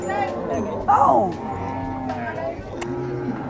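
A cow moos in what may be a video game, one loud drawn-out call near the middle with other animal-like tones and background voices around it.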